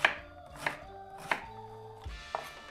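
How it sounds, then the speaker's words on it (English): A knife chopping celeriac into small cubes on a cutting board, giving several crisp separate chops at a slow, irregular pace, close and clear with no talking. "I want to cut fairly small cubes, that way they're gonna cook a little faster."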